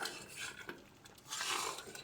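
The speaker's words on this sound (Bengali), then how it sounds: "চলো ভালো করে মিশিয়ে নিচ্ছি এবার এটাকে।" A spoon stirring chicken curry in a pot, faint metallic scrapes and clinks against the pan at low volume, with no speech.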